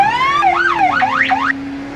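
A loud, electronic-sounding video game police siren sounds a steady tone, then switches to a rapid rising-and-falling wail before cutting off abruptly.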